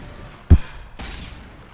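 Two sharp sniper rifle gunshots in a video game about half a second apart, the first a hard punchy crack, the second trailing into a long ringing echo.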